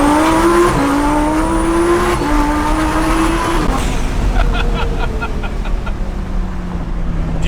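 An 800whp twin-turbo Lamborghini Huracan accelerates hard through several gears, its loud rising engine tone dropping at each quick shift, then the revs settle as it cruises with some turbo chatter.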